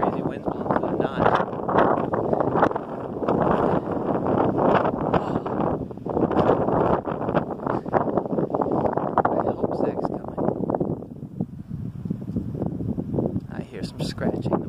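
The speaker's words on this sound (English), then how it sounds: "Crazy winds blowing through the notch." Strong gusts tear through a mountain notch on the Carter Range facing Mount Washington, roaring and buffeting the microphone in a loud, constant rush that eases slightly near the end.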